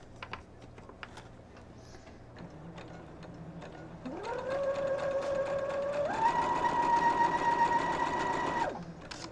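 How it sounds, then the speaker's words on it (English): Sewing machine stitching quilt blocks, starting with faint clicks, then spinning up into a whirring hum that steps higher in pitch and runs steadily before stopping abruptly near the end. "Just keep sewing."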